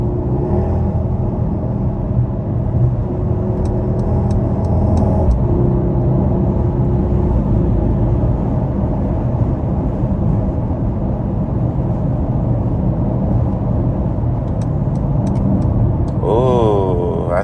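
Mercedes GLS63 twin-turbo SUV driving, a steady loud low engine rumble and road noise throughout, with a brief rising whine near the end.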